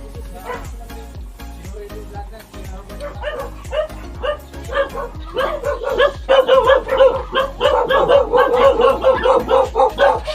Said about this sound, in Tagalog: Dito guys, daming aso dito.